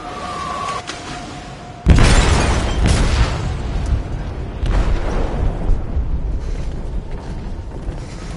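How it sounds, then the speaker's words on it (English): An explosive detonates in a ship's hold with a sudden loud boom, followed by a long rumbling, rattling aftermath of creaking and debris that slowly fades. "They detonated an explosive in the hold."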